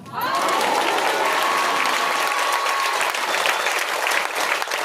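Loud, sustained clapping from a Hindi church congregation during a sermon, a dense uninterrupted wash of many hands close by, with a faint tone running under the first few seconds.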